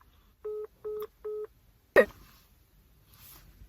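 Three short, steady touch-tone beeps sound evenly spaced as a phone number is dialed to call a grandmother, followed by a sharp click or thump and near silence.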